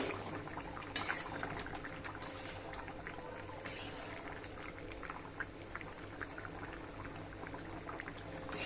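Potato and meat curry boiling in a pot, a faint steady bubbling and simmering with small pops and liquid sounds throughout.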